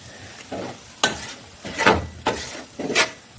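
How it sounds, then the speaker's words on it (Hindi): Half a kilo of semolina roasting in ghee in a pan, stirred with repeated scraping sweeps of a spoon over a soft sizzle, close and steady. "मैं आधा किलो सूजी भी ऐड कर दूँगी। तो यहाँ पे भी इसे आपने अच्छे से भून लेना"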